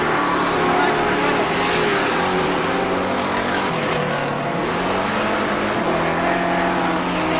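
Outlaw sedan race cars roar through turns three and four at Macs Speedway during a night race, a dense, continuous loud engine drone with shifting pitches as several cars pass close together.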